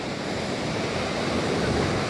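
Ocean waves wash in a steady, soft roar of surf, with faint wind mixed in and no voices.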